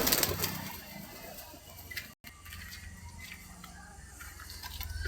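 A newly paired Mushki cross pigeon and crested pigeon coo softly inside a loft, low murmuring calls near the mic over a faint ticking background hum.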